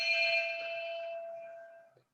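A single bell is struck to open a Rotary Club meeting, a clear ringing tone that decays slowly over about two seconds with no voices over it.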